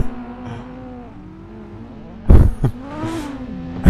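Cars in a multiplayer racing game drift in tandem, engines droning and revving with shifting pitch, broken by loud bursts of tire squeal and revving toward the end.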